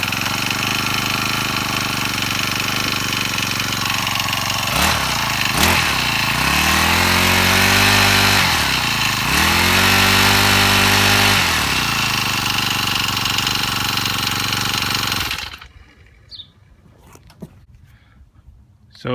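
Honda GX35 four-stroke trimmer engine runs loud and close at a steady high idle, with a few brief throttle dips and rises, then cuts off abruptly near the end, leaving near silence.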